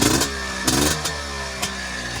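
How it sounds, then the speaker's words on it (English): A Honda Pilot FL400 engine is revved with the thumb throttle, a loud, close motor buzzing steadily with a few short throttle blips standing out, no talking. "There's your throttle with your thumb."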